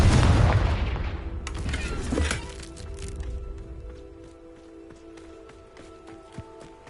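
A Confringo spell explosion in the game Hogwarts Legacy bursts loudly at the start, then fades into a ringing decay with faint crackling debris.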